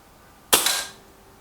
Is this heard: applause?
no